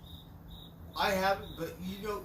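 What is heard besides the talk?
crickets chirping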